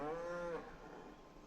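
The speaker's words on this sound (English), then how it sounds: "There's a baby cow." A baby cow in Farming Simulator 25 gives one short, clear moo lasting about half a second, followed by quiet ambience.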